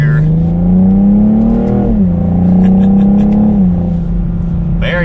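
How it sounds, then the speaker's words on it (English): A 2021 BMW M440i xDrive coupe's turbocharged engine pulls loudly under partial throttle through second gear with its 8-speed automatic, revving smoothly upward, easing through a shift, then climbing again. "So do a small acceleration just to kind of feel out this engine."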